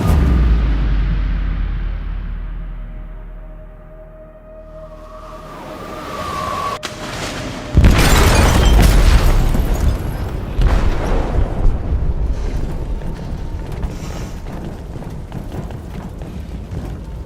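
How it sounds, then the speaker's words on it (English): Explosive detonated in a ship's hold, a deep roaring blast that bursts in suddenly after a rumbling build-up and then trails off into a long, crackling, debris-filled rumble. "They detonated an explosive in the hold."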